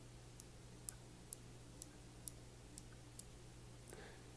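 Adjustable airflow ring on a Freemax Scylla vape tank clicking through its positions: seven sharp, evenly spaced clicks close up over a steady low hum, with no talking.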